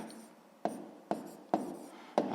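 Writing out a math solution for a sixth-grade exercise makes four crisp, evenly spaced strokes of pen or chalk, each one scratchy and close against a quiet background.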